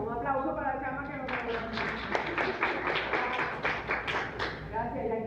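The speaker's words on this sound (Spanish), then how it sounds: "Un aplauso para la chama" A speaker's voice gives way to a short burst of clapping from a small group in a classroom, a few seconds of scattered, close hand claps before talk resumes.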